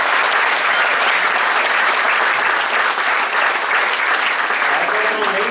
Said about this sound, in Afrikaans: dan gou wragtig lekker hande klap